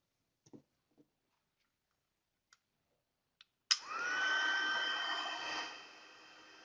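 After a few faint scattered taps, an embossing heat tool used on a handmade Christmas card switches on with a sudden whoosh and blows a steady, fairly quiet whir for about two seconds before easing off.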